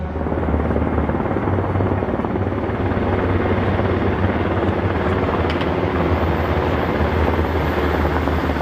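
A helicopter's steady, loud rotor thrum and engine roar fill the whole clip without letup.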